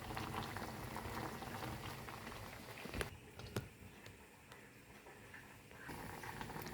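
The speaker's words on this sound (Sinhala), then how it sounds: "මෙන්න මේ ගානට බත් එක තැම්බෙනකොට අපි මේක වතුර එක පෙරා ගන්න ඕනේ" Rice for biryani boils in a pot of water over a low flame, bubbling steadily and close. A couple of sharp knocks break in midway, and the bubbling briefly quietens before swelling again.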